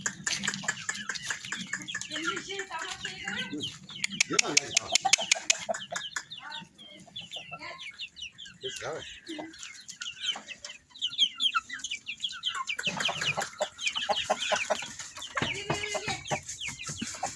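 Several chickens cluck and chatter continuously nearby, with overlapping calls of varying loudness and occasional soft human voices in the background.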